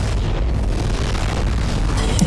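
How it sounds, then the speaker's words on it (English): Layered, bass-boosted explosion effects from the Mirror's Edge video game: a loud, dense, continuous rumbling boom that fills the whole moment, heard without speech. "Nice and buzz boosted explosion."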